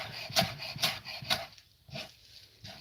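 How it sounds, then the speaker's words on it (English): A kitchen knife cutting slowly through chopped ingredients on a wooden cutting board, a series of soft rasping strokes in a steady rhythm, close and fairly quiet. "it doesn't look like my knife is moving, but it's slowly cutting through everything"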